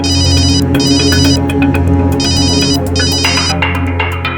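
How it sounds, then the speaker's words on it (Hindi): A phone ringtone trills in repeated bursts, loud and close, over a low steady hum, with no voices. "कादिर का फोन था, कुछ इंफॉर्मेशन देना चाहता है।"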